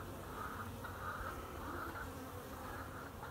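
Honey bees buzz in a steady, dense drone during an autumn hive inspection on a mild 70-degree day, close and continuous with slight swells in pitch.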